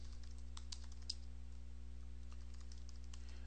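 Keys clatter on a computer keyboard in a short, light run of typing, faint and close, set against a steady electrical hum.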